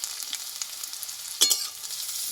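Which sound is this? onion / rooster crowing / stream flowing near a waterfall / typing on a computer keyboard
onion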